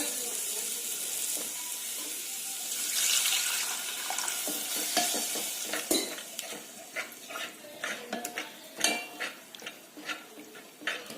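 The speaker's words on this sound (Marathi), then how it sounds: "त्याच्यामध्ये आपल्याला थोडंसं पाणी घालायचंय" Water hisses and splashes as it's poured into a hot pan of sautéed dried small shrimp, followed by scattered clinks and stirring noises.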